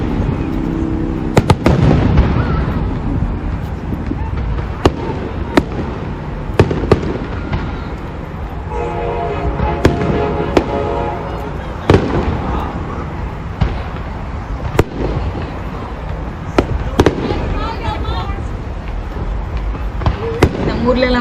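Fireworks bursting for the USA 4th of July Independence Day celebration, a dense barrage of sharp loud cracks and booms with rumbling echoes, steady throughout, with people talking faintly underneath.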